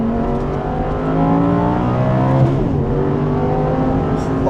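An Audi R8 GT sports car engine revs hard and climbs through high rpm, loud and close, its tone rising and falling as the throttle changes.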